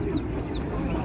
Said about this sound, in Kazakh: Мынау балапандары ғой тауықтардың, иә?